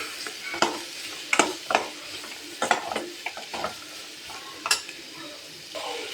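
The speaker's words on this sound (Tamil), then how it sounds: "சேர்த்துட்டு நல்லா கலந்து விடுங்க." Carrots and beans fry in a pan under a soft sizzle while a spoon stirs them, clattering and scraping in irregular bursts against the metal.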